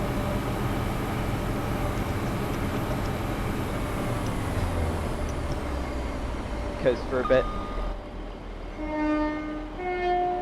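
A Class 170 Turbostar diesel multiple unit on the Fife Circle Line in Train Sim World, its engine drone and rail rumble running steadily, with a few horn-like tones near the end, under someone talking.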